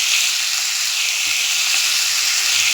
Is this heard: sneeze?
no